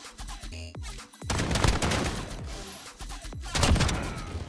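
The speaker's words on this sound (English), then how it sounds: "I kind of want to sneak up to him and use the shotgun on him." Gunfire in a Call of Duty Modern Warfare match, with a shotgun firing: several heavy, close blasts in irregular bursts, each followed by a brief ringing tail.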